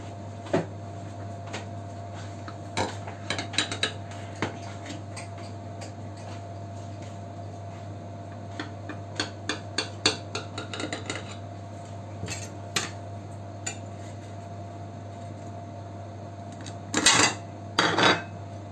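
A coconut cake in its tin is taken out of a hot oven: scattered metallic clinks and taps of the tin and rack, ending with a couple of louder clattering knocks, over a steady low hum.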